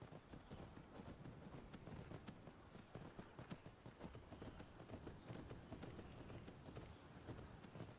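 A horse gallops in Skyrim, its hooves drumming in a fast, steady rhythm that stays quiet and constant throughout, with no talking over it.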